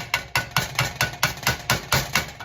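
Orange zest being knocked from a grater or tool against a pan while making crunchy orange chicken egg rolls, heard as a steady series of about ten sharp, evenly spaced taps, close and alone.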